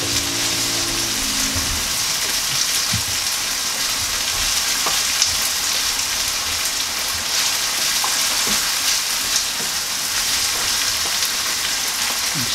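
Sauce for meat-stuffed brioche buns sizzles and bubbles in a pan, a steady crackling fry with occasional soft stirring clinks, loud and close throughout.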